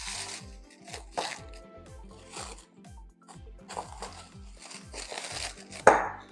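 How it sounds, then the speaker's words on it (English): Plastic wrap crinkles and rustles as it is peeled off a bowl of risen dinner roll dough at a camp-stove setup, soft crackling bursts spread through the stretch with a louder crunch near the end. "I'm gonna go ahead and take the plastic"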